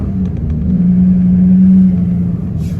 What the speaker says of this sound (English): That was that guy's truck on.